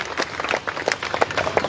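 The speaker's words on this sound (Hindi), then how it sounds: "एक बार जोरदार तालियां" A large gathering of women at a community event claps together, a dense, bright patter of many hands with uneven bursts, fairly loud and steady throughout the short stretch.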